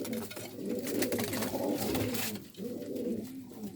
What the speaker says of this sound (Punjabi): ਇਹ ਹੀ ਉਹ ਕਬੂਤਰ ਸਰ, ਨੀਲ ਦੁੰਬੀ ਨਸਲ ਜਨਾਬ